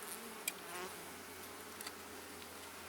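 Honey bees buzz in a steady, faint drone above an opened hive, the hum low and continuous with a few brief louder passes from bees flying close.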